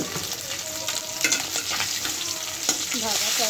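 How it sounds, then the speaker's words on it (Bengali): A fish sizzles as it fries in a pan with bay leaf and whole cumin. The close, dense crackle is steady, broken by a few sharp stirring scrapes, and no one talks. "ভাজা প্রায় শেষ হয়ে যাচ্ছে মাছটা"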